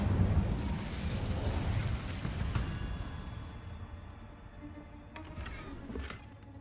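A fire spell bursts out in Hogwarts Legacy, cast in a goblin mine: a roaring whoosh opens loud and dense, then tails off into a crackling, fading burn with a few faint pops near the end.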